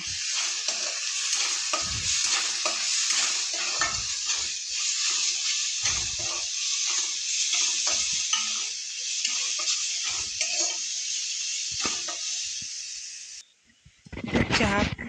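Cumin and coriander powders sizzle and fry in oil for a Telugu-style fish curry, a steady loud hiss with repeated stirring scrapes throughout, ending in a brief clatter.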